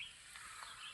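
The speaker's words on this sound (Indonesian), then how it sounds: "Suara kicaunya merdu, guys." Birds chirp and sing faintly in a forest in the morning, with soft, high calls rising over a quiet background hum at a distance.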